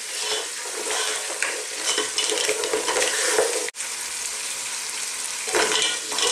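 Mussels sautéing in a hot pan, a dense continuous sizzle broken by repeated close stirring scrapes, loud and steady with a brief dropout midway, no voices.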